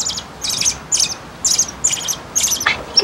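A baby robin calls loudly and repeatedly in a series of high, shrill chirps spaced through the moment, close by over a faint background hiss.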